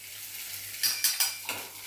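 A spice paste with salt, turmeric and chili powder fries in a pan, a soft steady sizzle broken by four quick scraping stirs near the end, close and alone.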